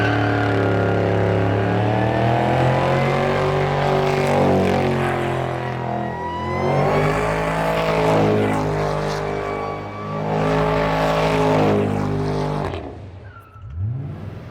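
A 2020 Harley-Davidson Road Glide with a 114 engine, Woods WM8-22XE cam and Fuel Moto exhaust cold-starts and idles, a loud, close, throbbing rumble with a few rising and falling revs before it cuts off near the end.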